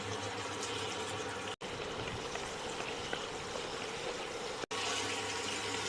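A little water splashed into spices frying in a pan for a Bengali drumstick and small-fish curry, setting off a loud continuous bubbling hiss that fills the whole stretch with two brief cuts.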